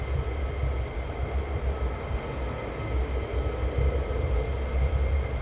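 Fighter jet aircraft at RAF Lakenheath airbase, a steady loud low roar of jet engine noise heard from a distance, continuous throughout without speech.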